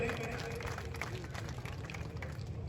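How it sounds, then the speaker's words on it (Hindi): A crowd claps steadily to welcome a guest at a Pali memorial gathering honouring Haifa hero Major Dalpat Singh. The applause is continuous and somewhat distant, with a faint hum and murmur behind it. "जोरदार तालियों से स्वागत और अभिनंदन करें।"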